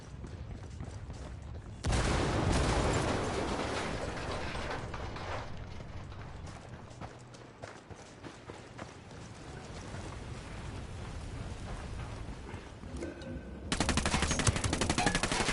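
Sustained automatic gunfire in the tactical shooter Ghost Recon, loud rapid rattling bursts that swell and ease, with a particularly heavy barrage at the start and again at the close, a voice faintly audible beneath.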